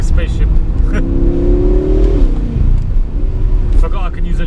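Synthesized fake engine sound piped into the cabin of a BMW F10 M5 Competition as it accelerates, a rising spaceship-like whine climbing in pitch over a steady road rumble, then dropping at a gear change before climbing again.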